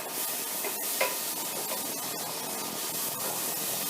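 Minced garlic goes into a tomato sauce base in a pan, giving a steady close hiss of sizzling and stirring that runs without pause and without talk.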